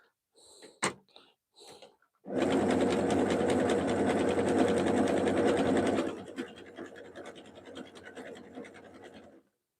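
A sewing machine stitching a jelly roll fabric rug runs in one steady, fast burst of close, rattling needle noise for about four seconds, preceded by a few short clicks and followed by quieter handling sounds.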